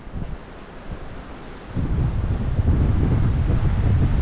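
Strong wind gusts at the Yesa reservoir buffet the microphone in a constant roar that grows louder and heavier halfway through, with no voices.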